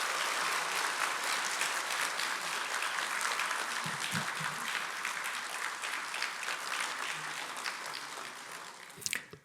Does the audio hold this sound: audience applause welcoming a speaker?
yes